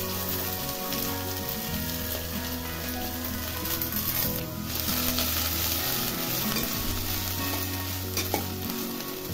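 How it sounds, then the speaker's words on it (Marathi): Cluster beans (guar) roast in a little oil in a pan over a gas flame, giving a steady, dense sizzle with stirring scrapes and clatter throughout, no voices. "गवारी भाजून घ्यायची चांगली।"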